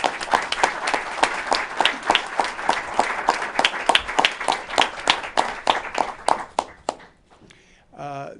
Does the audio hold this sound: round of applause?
yes